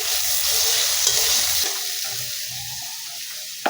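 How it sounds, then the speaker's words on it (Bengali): Eggplant slices frying in a pan, a steady close sizzle with some stirring clatter that thins out partway through, ending with a small knock; no talking. "আমার বেগুন ভাজা এদিকে পুড়ে যাচ্ছে যে।"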